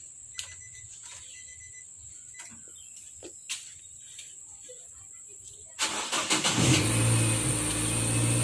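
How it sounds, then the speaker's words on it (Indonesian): A Nissan Grand Livina's engine cranks and catches after a quiet stretch of small clicks and nighttime crickets, then settles into a loud, steady idle up close. "kita harus hidupkan mobil dulu"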